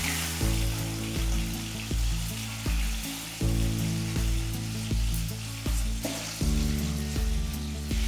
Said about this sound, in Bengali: একে একে এভাবে মাছগুলো আমি ভেজে নেব সব।